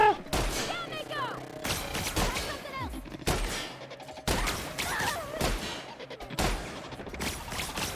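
Rapid gunfire in the sci-fi shooter game The Outer Worlds, with dense bursts of shots, heavy thumps and crashing impacts that come in waves over busy game sound. A player's voice is heard faintly now and then.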